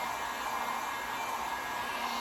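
A heat gun blows hot air to dry water-based stain on a Dollar Tree sign craft, giving a steady, loud broadband hiss that runs unbroken and alone throughout.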